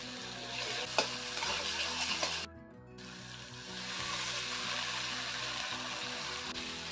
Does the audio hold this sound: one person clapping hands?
no